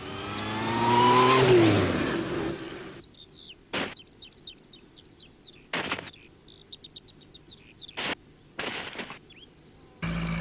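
A car revs and accelerates hard during fast, aggressive driving, the engine loud at first and then dropping away, followed by scattered bird chirps and a few brief knocks or bumps.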